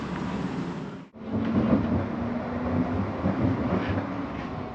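A steady low rumble of a moving train in Scotland, heard from inside a carriage, continuous apart from a brief dropout near the start.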